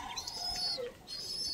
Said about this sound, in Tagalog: naiyak na yung inakay doon